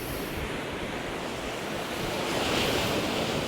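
Storm-driven sea waves break and wash onto a beach at Walcott, a steady loud roar of surf with wind noise buffeting the microphone, swelling slightly toward the end, with no voices.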